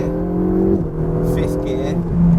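A Ferrari 488 GTB accelerates through its gears, its engine note climbing and then dropping at each quick upshift, loud and close, with a voice over the engine.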